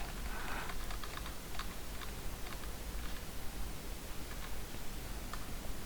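Computer keyboard typing, a scatter of soft, fast key clicks over a hissy background, fairly faint and close.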